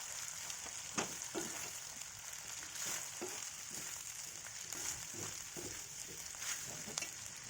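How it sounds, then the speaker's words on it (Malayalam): Chicken parts being stirred as they fry in a pan: a soft, even sizzle under repeated scrapes and stirring strokes at an irregular pace, quiet and close with no talking. "ഇനിയും ഇളക്കിക്കൊണ്ടേ ഇരിക്കുക."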